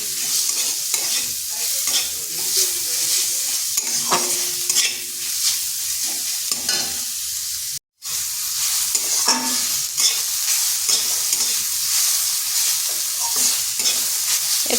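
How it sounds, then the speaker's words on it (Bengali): Grated radish sizzles in a hot pan as it is stirred, with repeated scraping strokes over a constant close frying hiss and a brief silent break midway. "মূলাটাকেও একটু হালকা নেড়ে নেব"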